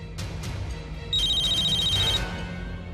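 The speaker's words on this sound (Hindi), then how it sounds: "आ गया फोन।" A phone rings with a rapid electronic trill lasting about a second, loud and close, amid background music.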